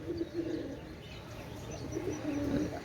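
Pakistani Rampuri pigeons cooing in low, soft repeated phrases, a few close coos spaced across the moment over a steady background murmur.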